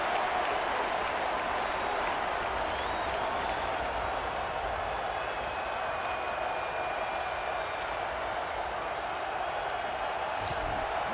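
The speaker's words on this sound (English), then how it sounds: "We'll see if they're able to come together against this very hostile crowd." A stadium crowd in the College Football 27 video game during a Notre Dame versus App State matchup, a steady broad roar of noise with scattered claps, continuous and fairly loud throughout.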